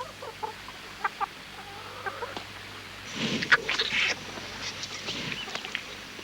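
Hens in an enclosed run give scattered, fairly close clucks throughout, with a busier cluster of overlapping calls in the middle before settling back to occasional single clucks.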